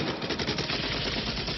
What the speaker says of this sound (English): Wow, look at the gunfire.